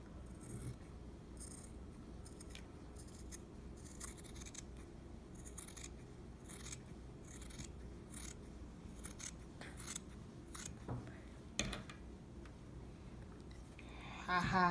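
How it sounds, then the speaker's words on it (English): Scissors snip through thick denim in a quick, steady series of crisp cuts, faint and close, with a soft voice briefly at the end. "All I'm gonna do is just take my scissors"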